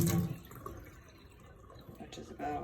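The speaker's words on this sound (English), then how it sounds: "This is all pasta water. I'm just going to pour it out until I hit half a cup" Leftover pasta water is poured into a kitchen sink, a short splash followed by a soft trickle and dripping. Faint talk is heard toward the end.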